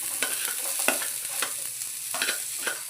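Onion frying in a pan, a steady close sizzle with regular spatula scrapes and stirs every half second or so, moderately loud.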